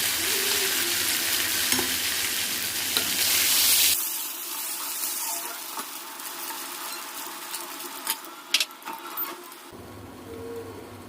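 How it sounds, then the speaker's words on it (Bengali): Fish sizzling in hot oil in a home kitchen, a steady broadband crackle that continues throughout, louder for the first few seconds and then quieter, with occasional clinks of utensils. "মাছগুলো ভাজা হয়ে গেছে, আমি এরকম করে ভেজে নিয়েছি।"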